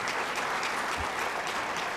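A hall audience at a film premiere applauds in dense, continuous clapping that stays loud and even from start to finish.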